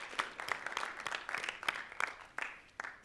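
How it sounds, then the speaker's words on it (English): A small audience at a school Writers Week event claps for the tech crew, with fairly quiet, uneven applause and several sharper individual claps standing out through the burst. "A round of applause for the tech crew."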